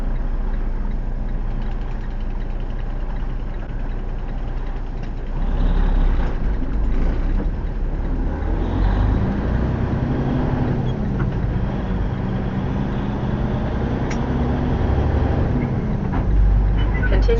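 A truck engine in a truck-driving video game, a steady low drone throughout that grows louder and rougher about a third of the way in as the engine works harder, with no voices heard.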